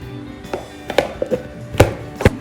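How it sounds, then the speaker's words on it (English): A knife chops a fresh onion on a cutting board in several sharp, close, irregular strikes spaced about half a second apart, with no talking. "No time at all to chop up an onion."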